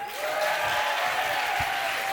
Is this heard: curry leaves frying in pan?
no